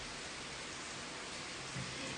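Steady rain falls outside, a soft even hiss of drops on surfaces that fills the whole stretch without pause, moderately close and uniform, with no clear voices over it.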